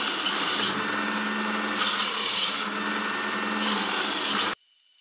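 A Work Sharp powered sharpener grinding the edge of a plastic knife, a loud continuous abrasive whir that swells and eases with each pass before cutting off abruptly near the end.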